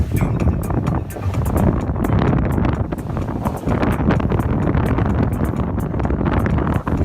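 A speedboat running in New York: a loud, steady rumble of wind buffeting the microphone over the engine and water noise, with voices talking now and then.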